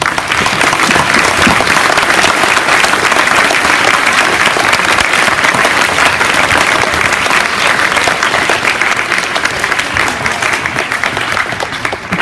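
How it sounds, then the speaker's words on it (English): Loud, continuous applause from a large crowd at a middle school Veterans Day assembly honouring the children, dense clapping that holds steady for the whole stretch with no talk over it. "I think they deserve a round of applause"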